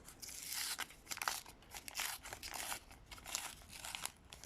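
A small paper surprise packet is torn and opened, giving close, quiet crinkling and tearing bursts in an irregular rhythm with no voices.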